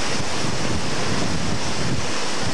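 Water pours down Seven Falls near Tucson, Arizona, a loud, continuous broadband rush heard up close with no voices.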